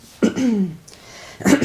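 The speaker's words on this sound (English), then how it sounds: "Excuse me, morning cough." A morning cough and throat clearing during a live yoga class: two short, rough, fairly close bursts separated by a brief quiet gap.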